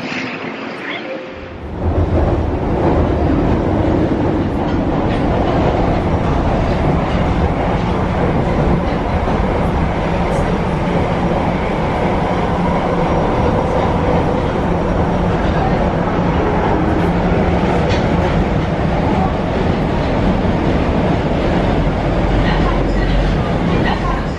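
A metro train in Japan rumbles steadily along the rails with a loud continuous roar and faint rhythmic clatter, voices talking underneath.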